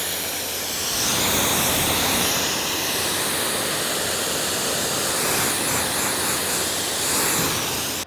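Water spray rinsing a vehicle during a ceramic protection detail, a steady broad hissing rush that holds for several seconds, close and loud with slight swells, with no voices.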